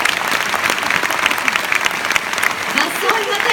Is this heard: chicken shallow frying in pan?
no